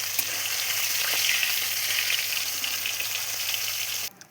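Whole rupchanda (pomfret) fish frying in hot oil, a steady close crackling sizzle that runs unbroken and cuts off abruptly near the end.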